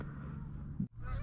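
Geese honking near duck decoys during a November sneak-boat hunt, with a single short honk standing out over constant outdoor noise, fairly distant, no talking.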